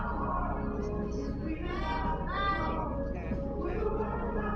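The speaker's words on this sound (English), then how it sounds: "Cat is being cat." House cat meowing in repeated drawn-out cries over a steady background hum, fairly close, with a low murmur of room noise beneath.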